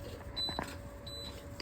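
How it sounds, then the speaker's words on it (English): A short, unfamiliar electronic beep sounds inside a truck cab, two thin high tones a moment apart over a quiet low hum, faint. "Heard a beep that I've never heard before."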